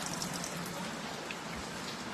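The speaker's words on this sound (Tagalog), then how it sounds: "it's raining here at Hinaguan" Rain falls at Hinaguan Nature Farm as a faint, steady hiss of drops on surfaces, continuous and even throughout, with no speech.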